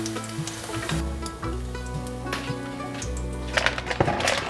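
Tofu slices fry in a pan of oil with a steady, close sizzle and occasional scraping stirs, continuous throughout with no talking.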